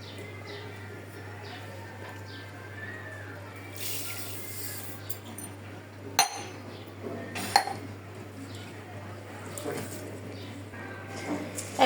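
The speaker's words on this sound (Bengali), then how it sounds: "এখন আমি ভালো করে চালটা ধুয়ে নিই। সাথে দিয়ে দিই পোলার চালটাও।" Uncooked rice being washed by hand in a pot for kacchi biryani, a steady watery swishing and sloshing with occasional clinks against the metal, close and fairly soft.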